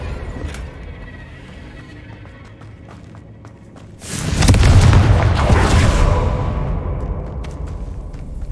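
The Confringo blasting spell in Hogwarts Legacy sets off a loud, close explosive burst with a rumbling roar that swells and slowly fades, following a quieter stretch of low rumble and faint clicks.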